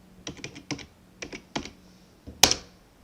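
Computer keyboard typing out a Linux install command: short clusters of crisp close keystrokes ending in one loud sharp key strike, with no talk.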